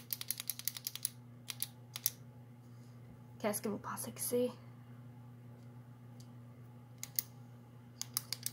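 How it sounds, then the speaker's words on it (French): A rapid series of light clicks from a ballpoint pen, close and dry, followed later by a few more clicks after a short spoken question. "C'est le son d'un stylo qui clique."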